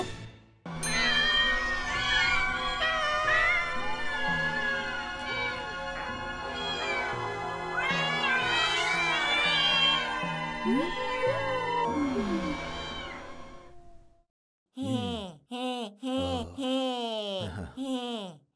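A kitten meows several times near the end in short, close cries, following a long stretch of loud cartoon music with a voice over it.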